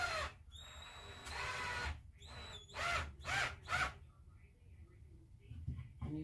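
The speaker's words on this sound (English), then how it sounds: "I'm going to screw in my bracket into the little shelf piece first" A power drill drives screws through a metal bracket into a small wooden shelf piece cut from an old fence picket: several short whirring bursts of rising and falling pitch, close, separated by brief pauses and handling noise.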